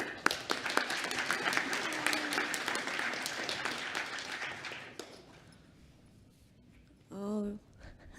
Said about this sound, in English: round of applause, love and support.